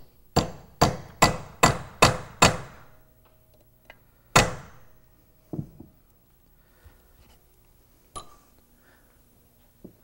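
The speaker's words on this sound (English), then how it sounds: "we'll knock over all of the rivets until that shoe is completely attached" Hammering rivets over to fix friction lining onto a Rolls-Royce Silver brake shoe: a fast run of six sharp metallic knocks, then one more strike and a few softer taps, close and loud with no talk.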